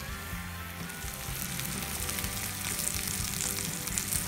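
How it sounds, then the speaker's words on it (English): Steak frying on a cast iron griddle atop a refurbished wood stove cooktop, a steady close hiss of sizzling fat with small crackles and pops, no voices. "whether or not that grill puts out enough heat to get that steak fried up right"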